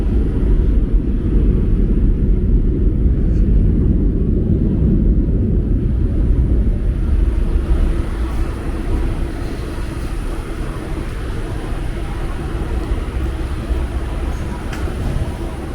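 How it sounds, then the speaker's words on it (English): An elevated subway train on the F and G line passes overhead along 4th Avenue in Brooklyn, producing a loud, sustained low rumble and rattling roar that slowly fades slightly over fifteen seconds. "there's a train above us right now."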